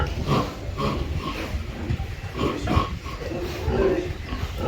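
Pigs on a small village pig farm in Kenya grunt and oink close by in a steady stream of short snorts, with faint background voices mixed in.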